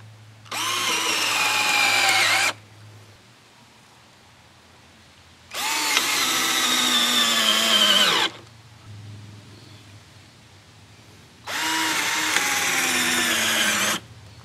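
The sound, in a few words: cordless drills drilling with 5/16 inch bit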